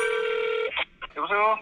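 A telephone ringback tone plays for a moment while a Korean car owner calls a repair shop, then gives way to a voice answering, close and clear.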